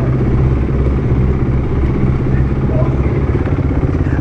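A motorcycle at night in a lake spillway, engine droning steadily and close as the rider lets the clutch out and rolls off, a continuous mid-pitched hum with faint clatter throughout.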